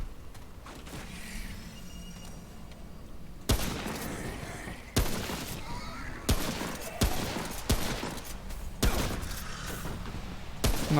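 Bursts of gunfire from a weapon in the video game Remnant: From the Ashes, several sharp loud shots and quick volleys spaced through the stretch over a steady low game ambience, with no talking.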